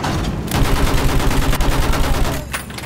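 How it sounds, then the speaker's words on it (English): A mounted machine gun fires in Battlefield 1, sweeping the ground in the Storm of Steel mission. The bursts are loud, rapid and sustained over the whole span, with a slight drop near the end. "Use the MG! Sweep the ground!"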